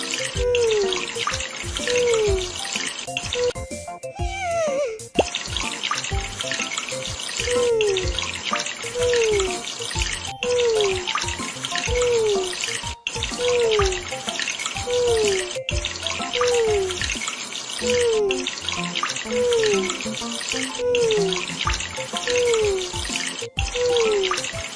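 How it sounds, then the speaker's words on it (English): Steady running shower water rinsing a puppy in a pet care video game, a continuous hiss layered over repeating cartoonish tones and game music throughout, loud and close. "Let's shower him."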